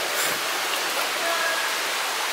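A small waterfall in Bali gives a steady, close rushing hiss of falling water that runs evenly through the whole stretch with no break.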